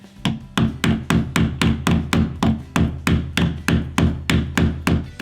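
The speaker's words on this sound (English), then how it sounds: "as you're hitting it sideways with the hammer and screwdriver, it tends to bind it" A hammer taps on a screwdriver to drive a door hinge pin, about fifteen sharp metallic strikes in an even, rapid rhythm, each ringing briefly, loud and close with no talk.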